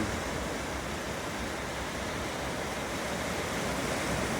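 A calm sea gives a steady, soft broadband wash of waves, continuous and fairly faint with no distinct breakers.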